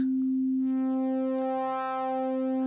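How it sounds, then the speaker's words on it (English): A pure synthesized sine tone, compressed so a tiny silence follows each waveform cycle, holds steady at one pitch with a buzzy edge from the repeated gaps, sounding alone and fairly quiet. "So I have a sine that I slightly compress to have this silence"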